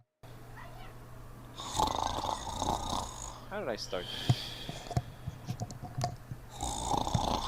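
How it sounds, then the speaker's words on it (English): Snoring rumbles in uneven, rasping breaths while a person talks over it and other faint noises come and go. "Snoring."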